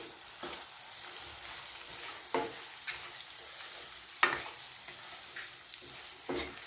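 Raw mango curry is stirred with salt and turmeric in a pan over a low flame, giving a soft, steady sizzle broken by a few sharper scrapes and taps of the spoon against the pan.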